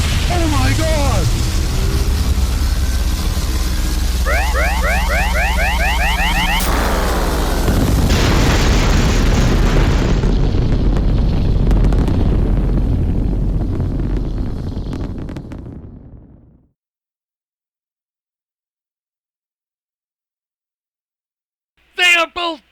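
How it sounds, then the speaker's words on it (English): Orbital cannon blasts from two battling robots roar as loud, sustained, rumbling explosions that fade into silence, followed by a short final burst. "BurgerBot is launching another orbital cannon! They're both launching their ultimate attacks now!"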